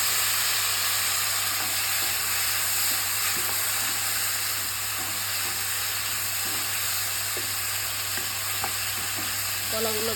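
Cut plantain pieces frying in a pan of hot oil with garlic, a loud continuous sizzle and hiss holding steady throughout, with faint stirring scrapes now and then.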